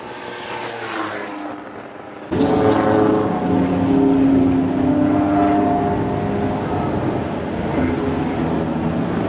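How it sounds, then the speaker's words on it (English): Vintage Bentley racing cars roar past at Silverstone, a steady engine drone abruptly swelling as a car arrives close and loud, then holding a strong sustained growl as it passes. "his 1921 3-litre TT, which is the oldest Bentley currently racing"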